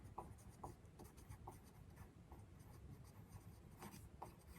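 A pen scratches across paper in short, faint strokes and taps, close up and quiet with a soft background hiss.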